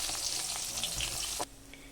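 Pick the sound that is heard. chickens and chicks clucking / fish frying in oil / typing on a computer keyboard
fish frying in oil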